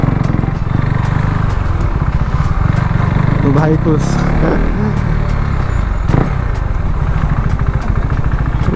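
KTM RC 390 BS4 motorcycle engine idling and running steadily close by, a loud continuous throb with a brief rev in the middle, while someone talks over it.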